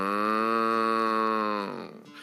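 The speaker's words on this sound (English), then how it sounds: "In the background, he heard the cows busy at work" A single long, loud cow moo, rich and drawn out for well over a second, then trailing off into quiet rustling.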